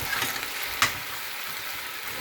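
Fried chicken salad being stirred in a hot pan gives a steady broadband sizzle with soft scraping and one brief sharper clink near the start, alone with no talk.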